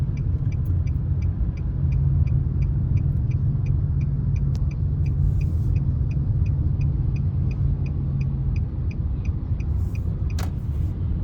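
Steady heavy traffic rumbles past on the 75 southbound highway in Atlanta, Georgia, a constant low roar of cars and engines with a repeating faint ticking on top, near and loud throughout.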